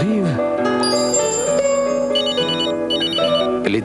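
A Nokia mobile phone rings loudly in a mid-1990s French TV advert, a bright electronic ringtone trilling in repeated bursts over a voice.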